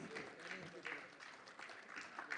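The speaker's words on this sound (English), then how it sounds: "Let's give a huge round of applause, please." Faint, steady applause from an audience in a conference hall during an award felicitation at a tech talent event, with a soft continuous patter that swells briefly a few times.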